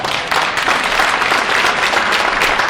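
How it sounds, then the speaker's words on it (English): A crowd at an evening Freedom of Press Week exhibition event in Toronto breaks into a big round of applause, dense and loud, sustained throughout. "if you could just give them a big round of applause"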